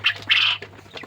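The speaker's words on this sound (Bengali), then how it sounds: "কোয়েল পাখির ডাকটা খুব সুন্দর" A pair of quail on a chicken farm give a short, loud, close squawking call in two bursts over a low steady hum.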